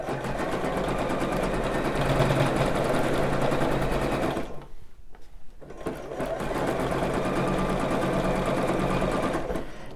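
A sewing machine runs fast and steady while stitching stretched elastic onto a bra, a loud continuous whirring hum that stops for about a second in the middle and then starts up again.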